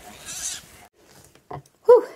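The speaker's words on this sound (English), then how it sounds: "That poor pig. It's not happy." An unhappy pig squeals and grunts outdoors in the rain beside a garden, with a few short, strained cries that grow louder toward the end, separated by quiet gaps.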